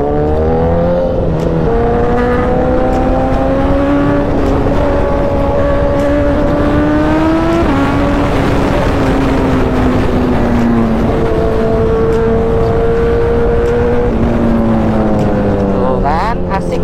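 A BMW HP4 motorcycle fitted with an Austin Racing exhaust accelerates hard through the gears, loud and close, with rising engine pitch, quick upshifts and brief drops between gears.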